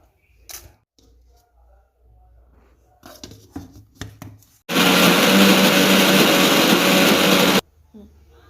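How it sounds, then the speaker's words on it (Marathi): A kitchen mixer grinder runs hard for about three seconds, grinding corn kernels and other ingredients into a paste, loud and close. It is preceded by clinks and handling noises as ingredients go into the jar. "आता हे सर्व साहित्य यात टाकून आपण याला मिक्सरला लावून घेऊ"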